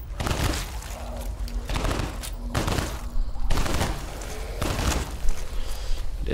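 Submachine gun fire in the top-down shooter Solstice Chronicles: MIA comes in loud, dense rapid bursts separated by brief gaps, with a faint steady tone running underneath.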